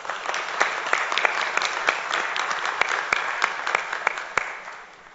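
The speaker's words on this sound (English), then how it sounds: "Can we all give them a round of applause, please?" Applause at an Edinburg city council meeting, a brief round of scattered, fairly close hand claps from a modest audience, tapering off toward the end.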